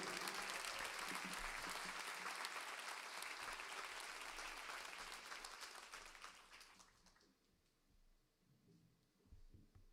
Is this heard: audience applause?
yes